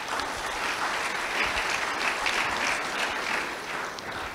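A crowd applauds with steady, dense clapping that holds at an even level for several seconds.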